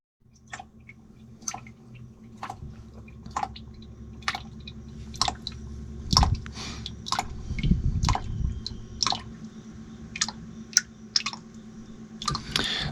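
Transmission fluid draining from a 2005 American Eagle RV transmission, a steady trickle broken by frequent sharp drips and wet splats landing close by, with a few louder gurgling splashes partway through.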